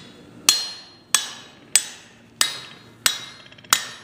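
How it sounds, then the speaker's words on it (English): A hand hammer knocks the retaining pins off the flat dies of a homemade power hammer: six sharp metallic strikes, evenly spaced, each ringing briefly before the next, close and loud with no talk. "I have to knock them off with the hammer."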